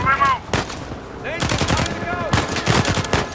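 Gunfire aimed at the player in Uncharted 4, bursts of automatic shots crackling in quick clusters with short gaps, mixed with game sound and a voice speaking between volleys.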